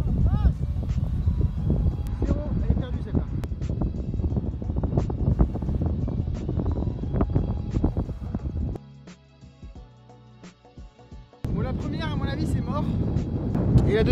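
Gusting wind buffets the microphone on a seaside golf links at Wimereux, a steady low roar with talk over it, easing briefly before blowing hard again.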